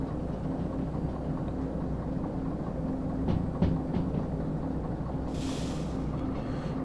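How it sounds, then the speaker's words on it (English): A freight locomotive brakes in the Derail Valley train simulator, a steady low rumble of rolling wheels with a few brief metallic clanks and a soft hiss of air near the end, no talk. "And just utilising the train brake."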